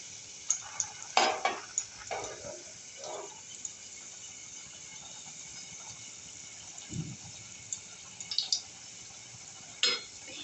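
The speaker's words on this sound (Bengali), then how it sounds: "একদিক হালকা ভাজা হয়ে গেছে আমি এটাকে উল্টে দিচ্ছি" Chicken spring rolls fry quietly in a pan under a low, steady sizzle. Scattered scrapes and clinks come through as the rolls are turned, in short bursts spread across the stretch.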